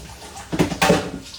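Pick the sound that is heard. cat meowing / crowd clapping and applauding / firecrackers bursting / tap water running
tap water running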